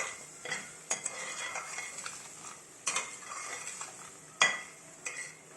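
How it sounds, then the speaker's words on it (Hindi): A spoon stirs and scrapes semolina and gram flour roasting with butter in a pan for halwa: soft, repeated close scraping strokes with a few sharper metallic clinks against the pan, and no talking. "बेसन और सूजी को हमने अच्छी तरह भून लिया था। अब इसमें मक्खन ऐड कर लिया है। मज़ीद उसको भूनेंगे 2 मिनट के लिए।"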